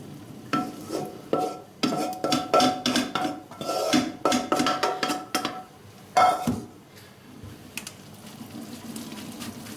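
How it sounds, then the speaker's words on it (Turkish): Cooked manti dumplings are tipped from a metal pot into a metal colander in a home kitchen. Rhythmic clanks and scrapes of metal follow one after another, then water drains softly, with no talk. "Mantımızı alıyoruz, süzüyoruz. Daha sonra mantımı süzgece boşaltıyorum."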